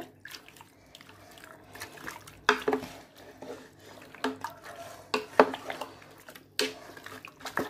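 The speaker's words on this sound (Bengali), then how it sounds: "আমি ভালো করে মাখিয়ে নিচ্ছি আর মাংসটা যত ভালো করে ম্যারিনেট করবেন" Beef being mixed and marinated by hand for an Eid curry, wet squelching and slapping in irregular bursts with occasional clinks of a bowl, fairly close and soft.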